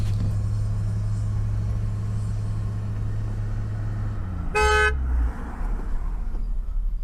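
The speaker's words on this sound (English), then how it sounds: "This guy's honking." A single short, loud car horn blast sounds nearby on a road at Borrego Springs, cutting through a steady low engine rumble that drops away afterward.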